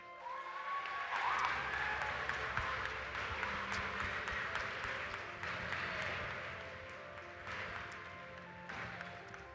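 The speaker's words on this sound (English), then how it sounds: "please give one last round of applause for all our competitors" Scattered applause and some cheering from the crowd for competitors at a high school robotics state championship in Arizona, heard in a large echoing venue with fairly distant, uneven clapping and background hall noise.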